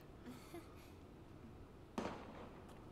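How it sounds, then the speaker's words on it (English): A single sharp burst of gunfire in Valkyria Chronicles cracks out near the end, over a low, steady background hum. "Gunfire!"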